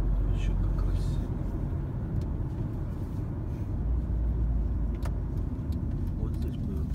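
Steady low road rumble and engine drone inside a moving car, continuous and fairly loud, with people talking over it.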